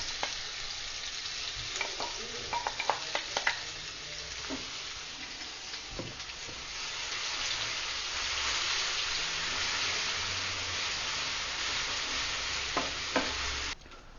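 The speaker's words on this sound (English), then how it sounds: "I'm gonna fry this paste for like approx 5 minutes." Masala paste for an Indian mustard fish curry fries over a low flame with a steady, close sizzle and crackle. Occasional sharp clicks and scrapes from stirring run throughout.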